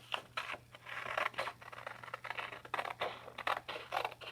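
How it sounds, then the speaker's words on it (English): Scissors snipping through paper along a cut line, a rapid series of short, crisp cuts in an uneven rhythm, close and fairly quiet with no talking. "we're going to take our scissors and cut out on the outside line"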